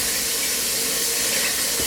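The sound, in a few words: washing hands under running tap water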